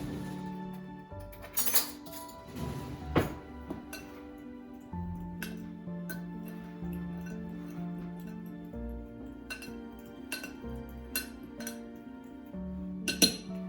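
A utensil clinks and scrapes against a bowl while ingredients are stirred and mixed for homemade snow, with irregular light chinks and taps close by, quiet and alone.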